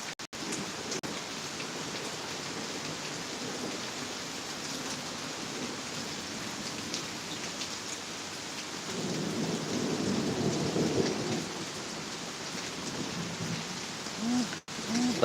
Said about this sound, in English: that's why I'm out here enjoying the storm.